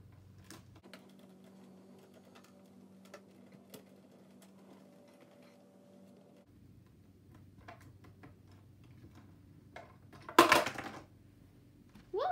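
Barbie fashion toy vending machine mechanism moving a bag, giving a close, quiet motorized hum with small ticking clicks, followed by a brief louder clatter near the end.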